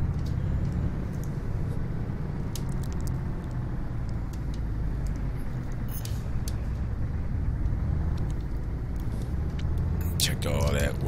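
A Volvo truck pulling away in second gear, its engine a steady low rumble close by, with light clicks and a brief rattle near the end.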